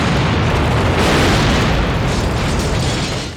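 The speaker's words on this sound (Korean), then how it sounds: "이 정도 폭발이면 체육쌤도 끝났겠죠" An explosion in a film bursts out as a loud, dense roar of blast and rumbling debris that holds for about three seconds before tapering away, with no talking.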